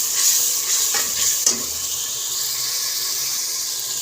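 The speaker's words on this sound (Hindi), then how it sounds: "प्याज को अच्छी तरीके से भूनना है तकरीबन 10 मिनट, और चम्मच जो है वो हिलाते रहना है ताकि नीचे ना लगे" Onions fry in a pan for potato curry while a spoon scrapes and stirs, a few stirring strokes early over a steady hissing sizzle that carries on alone, close by.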